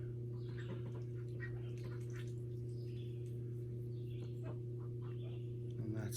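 Ducks kept with clean water and food at an outdoor pen in Alton, New Hampshire, giving soft, scattered calls over a steady low hum that runs throughout.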